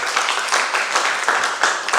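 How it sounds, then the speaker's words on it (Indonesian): An audience at a training session bursts into applause, a dense, continuous patter of many hands clapping at moderate volume throughout, with no speech over it. "Tepuk tangan untuk Sairi."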